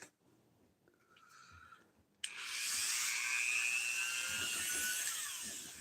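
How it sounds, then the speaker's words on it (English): A Dremel rotary tool starts up during prop work, its thin, shrill whine switching on suddenly partway through after a few quiet rustles, then holding steady and close until the end. "See if we can use the Dremel now."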